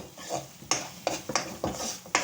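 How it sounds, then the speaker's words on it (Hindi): A spoon scrapes and knocks against a pan while besan (gram flour) is stirred and roasted in ghee for egg halwa, producing several sharp, irregular clinks over a faint, soft sizzle. "बेसन को घी में अच्छी तरह से भूनने से बेसन का कच्चापन ख़त्म होता है।"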